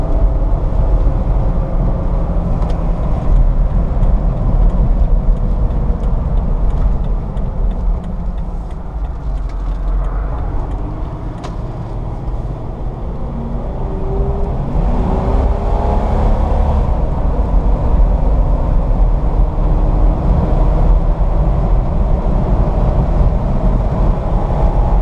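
A lifted 2006 Jeep Wrangler Unlimited driving on the road, with a steady, loud engine drone and tire rumble filling the cabin throughout, no talking.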